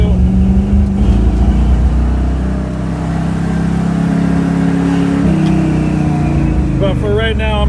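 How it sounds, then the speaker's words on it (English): A small-block Chevy 350 with a Holley 750 double pumper carburetor and MSD ignition revs loudly and close up. Its steady roar dips slightly midway, then climbs again in a rising rev near the end. "That Holley 750 double pumper is hitting hard."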